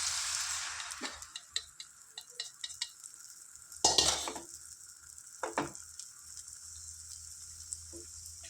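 A country chicken egg omelette fries in oil in a pan, giving a soft steady sizzle with scattered clinks and scrapes of a utensil and one louder clatter partway through, with no talking.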